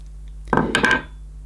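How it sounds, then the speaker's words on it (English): Yankee Candle wick trimmer snipping a long candle wick, one short, close metallic clip and scrape lasting under half a second in otherwise quiet surroundings. "You should really trim the wick, and I've got a wick trimmer, a Yankee candle one."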